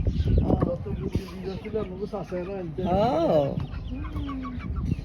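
Chickens on a farm cluck and call in short bursts close by, mixed in with people talking throughout.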